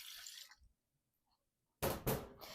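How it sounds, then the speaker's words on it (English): Milk is poured into a bread machine pan, arriving as a loud, close liquid splash after a quiet stretch, with an earlier faint burst of sound at the start. "So now we're going to pour in our milk."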